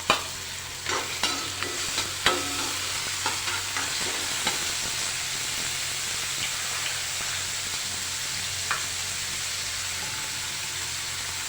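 Chopped tomato stirred through hot oil in a pan, a steady close sizzle with a few sharp spoon scrapes and clicks near the start, then an even frying hiss with no voice.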